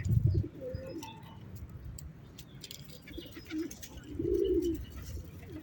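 Soft, low pigeon coos repeat at close range, with faint chirps and rustling in a quiet outdoor setting.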